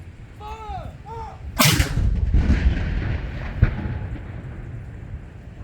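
A cannon fires one booming round of a 21 gun salute at a rainy Remembrance Day ceremony, the sharp blast rolling into a long echoing rumble, preceded by a faint whistle-like tone and followed by a smaller thud.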